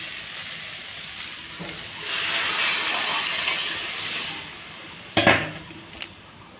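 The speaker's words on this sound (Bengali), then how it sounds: "দেখো ঝোলটা পুরো টকবক করে ফুটে গেছে" Fish curry gravy with potato and greens stems boils in a pot, a soft bubbling hiss that swells and fades, broken by a couple of sharp metallic clinks of a pot or utensil near the end, no voices.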